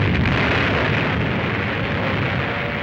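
Explosions from archival war footage of the attack on Pearl Harbor form a loud, continuous, roaring blast rumble that fills the whole stretch without a break.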